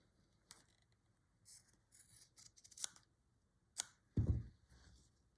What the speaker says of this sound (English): let's just snip that scrap off